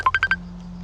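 Four quick evenly spaced telephone keypad tones beep close and clear as a number is dialed, followed by a faint steady hum.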